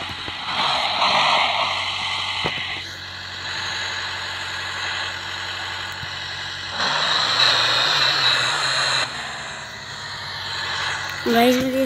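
An off-road truck in the game Off Road Adventure drives with a continuous engine drone that rises and falls as the revs change, ending in a short squeal, while a voice talks over it at points.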